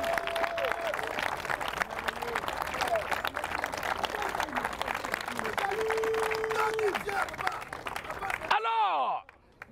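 A church congregation claps and cheers for a sustained stretch, dense rhythmic applause mixed with crowd voices and shouts, cutting off abruptly near the end.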